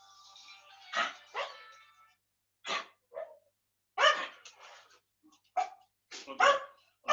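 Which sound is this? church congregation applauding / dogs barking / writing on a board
dogs barking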